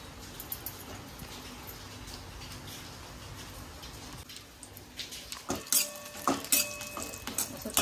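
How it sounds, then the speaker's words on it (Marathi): Onion and coconut roasting in a pan for a homemade mutton thali, with steady frying hiss at first, then clinking stirs and scrapes of a utensil against the pan growing louder toward the end. "सगळं कांदा खोबरं मस्त असं लाल होस तोपर्यंत भाजून घ्यायचं।"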